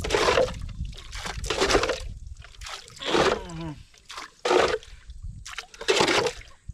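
Water splashing and pouring as a fish trap basket is lifted out of the Krishna river, several loud gushing bursts with brief gaps, close by.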